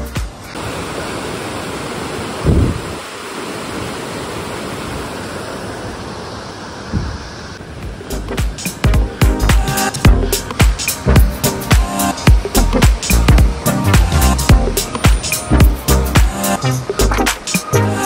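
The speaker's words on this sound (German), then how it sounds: "Ab und zu lohnt es sich auch mal, dem Rauschen des Gebirgsbachs zuzuhören." Rushing mountain stream near an alpine hut in Sulden, a steady broadband roar of water that swells into louder, choppier splashing and gurgling partway through, close and continuous with no voices.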